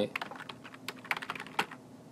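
Typing on a computer keyboard, a quick irregular burst of close, crisp key clicks with a couple of louder strikes, alone with no talk.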